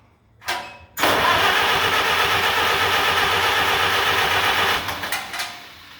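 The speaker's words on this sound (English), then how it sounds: "All right, ignition switch on, choke on. She's in neutral. Here we go. We got a pop." A Farmall H tractor engine cranks briefly, pauses, then catches and runs roughly for several seconds with uneven popping before it sputters and dies, loud and close with no voices.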